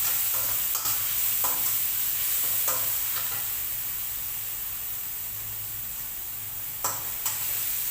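Frog and holy basil stir-fry in a wok, with a steady hiss of sizzling and occasional scraping clinks of a spatula against the pan.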